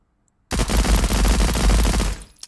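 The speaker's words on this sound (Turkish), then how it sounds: "Bak dümdüz atış edeceğim şimdi." Sustained rapid automatic gunfire from a gun in the video game Transience, a loud dense burst of shots lasting under two seconds before cutting off, with no talk.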